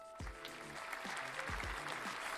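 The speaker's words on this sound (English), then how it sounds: "I got a round of applause for me" A live stream's audience applause comes through as a steady wash of clapping under music and other sounds, moderately loud, with no talk.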